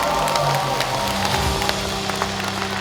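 An audience applauds at a book launch event in Wonju, Gangwon Province: a steady, dense wash of many hands clapping, sustained and fairly loud throughout with no pauses.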